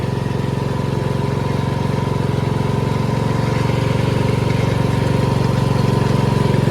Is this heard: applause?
no